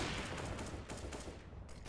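Sustained automatic gunfire spraying at a wall on Banana in CS:GO on the Inferno map, a dense continuous burst of rapid shots lasting throughout, loud and close with no talk.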